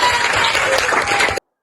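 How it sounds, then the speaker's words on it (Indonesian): Classroom applause from students, a short burst of dense clapping that cuts off abruptly. "Ya, tepuk tangan sekali lagi."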